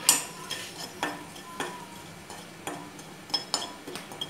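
Desiccated coconut dry-roasting in a pan on a gas stove, a quiet backdrop broken by a series of distinct spoon or spatula scrapes and light metallic clinks at an uneven, roughly half-second rhythm, close by with no talking.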